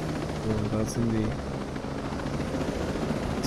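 Two drones fly overhead in the video game Ghost Recon Wildlands, keeping up a steady rotor-like whirring hum throughout, while someone talks briefly over it near the start.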